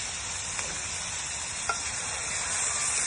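Layer chicken meat sizzling and being stirred in a pan, a steady close frying hiss with a couple of soft scrape clicks.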